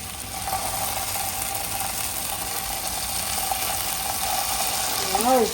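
Anchovies fry in a pan with a steady, close sizzle and small pops, and a voice cuts in briefly near the end.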